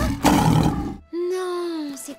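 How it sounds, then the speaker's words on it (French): A cartoon lion gives a loud, rough roar, followed by a long, drawn-out groaning call, all in an animated episode. "Non, c'est un lion, ça."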